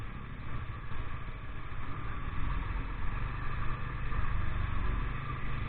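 A motorcycle engine on a long-distance road trip, a steady low rumble that holds at a constant level throughout with no talk over it.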